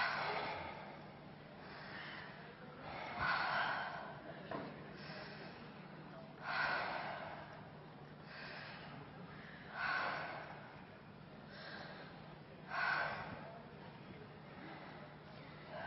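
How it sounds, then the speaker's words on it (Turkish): Slow, deep breaths drawn in and pushed out through the mouth during a guided breathing exercise, in roughly five or six long, even cycles that swell and fade, close and soft, with a low steady hum underneath. "ağzınızdan derin derin nefes alıp vermeye"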